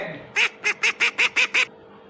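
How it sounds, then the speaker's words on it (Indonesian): A duck quacks seven times in a quick, evenly spaced series, each call loud, nasal and honking, up close and alone with no talking. "Dan yang kedua adalah suara bebek."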